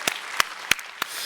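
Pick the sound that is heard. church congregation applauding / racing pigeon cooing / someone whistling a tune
church congregation applauding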